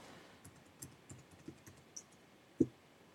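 Quick, faint keyboard keystrokes tap in an irregular run, ending with one louder click.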